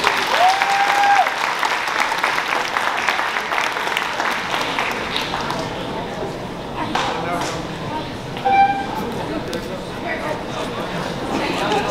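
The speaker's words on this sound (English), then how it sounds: "So round of applause, please, for him." Audience applause at a college Diwali dinner: dense, steady clapping fills the room, with people talking over it and a couple of brief tones.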